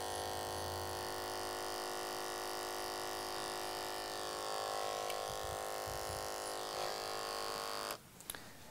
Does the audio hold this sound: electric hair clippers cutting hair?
yes